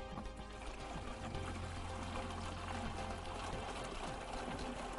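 Water is poured into a 5-gallon bucket to make vermicompost tea. The pour is a steady, close gushing stream that runs without a break.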